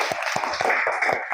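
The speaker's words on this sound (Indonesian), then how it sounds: "Kasih tepuk tangan untuk semuanya." Students in a classroom clap together in a quick steady rhythm, about four claps each second, fairly loud and close.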